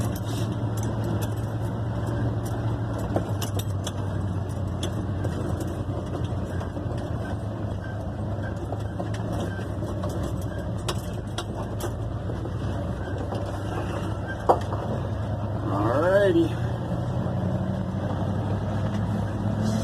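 A 1972 Ford F100 pickup truck rolls along a dirt road, its engine a steady low drone with rattles and bumps from the cab and a short mechanical squeal near the end.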